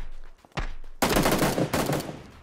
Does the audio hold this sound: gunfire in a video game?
yes